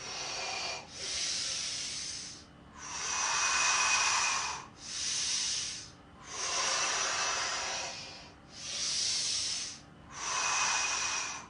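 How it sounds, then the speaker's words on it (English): Slow, loud breathing close to the mic during a chair yoga class, about six long airy inhales and exhales in a steady rhythm, with no other sound. "I can hear you breathing."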